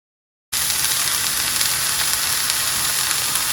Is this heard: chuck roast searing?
yes